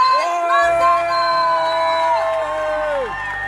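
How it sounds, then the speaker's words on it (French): A stage-conference audience in Colmar cheers loudly for the director, with long whoops and yells rising over a crowd roar, held for several seconds before trailing off. "un tonnerre d'applaudissements pour notre directeur, Kylian Manzano!"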